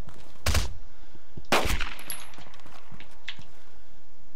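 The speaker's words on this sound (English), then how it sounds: "I'm going to have to shoot." Two loud, close gunshots from a player's firearm in DayZ Standalone, spaced about a second apart, each with a sharp crack and a short ringing tail, followed by quieter ambient game sound.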